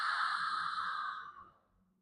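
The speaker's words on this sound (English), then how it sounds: "I'd like to practice some ujjayi breathing now." A slow ujjayi ocean breath drawn through a constricted throat, one long, soft, hissing exhalation close to the ear that fades away after about a second and a half, with no talking.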